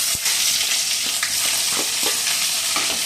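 Onion, tomato and green chili fry in hot oil for rava kichadi, a dense continuous sizzle with scattered spatula stirring scrapes, close and fairly loud, with no voices.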